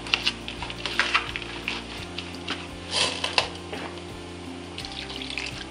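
Warm water is poured into a bowl of egusi and mixed, soft splashing and trickling over a low steady hum, with a few sharp clicks and louder sloshes in bursts.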